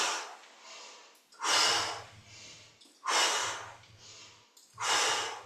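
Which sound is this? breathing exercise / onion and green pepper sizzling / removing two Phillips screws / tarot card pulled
breathing exercise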